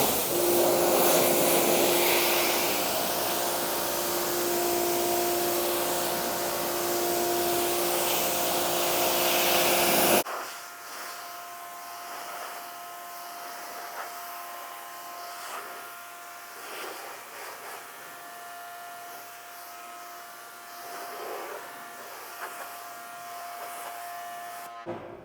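Water spray rinsing an Acura TL SH-AWD, a loud steady hiss for about ten seconds, then a quieter, lighter spray continuing to the end.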